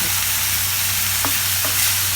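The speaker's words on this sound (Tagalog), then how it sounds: "Haluin lang ng mabuti hanggat sa maging brown yung pork giniling." Ground pork frying until brown, with a continuous close sizzle, a low steady hum beneath it, and a couple of brief scraping stirs from a utensil against the pan.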